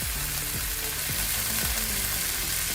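Ginger fries in butter in a pan with a constant, close sizzle and crackle, a little stirring clatter, and no voices.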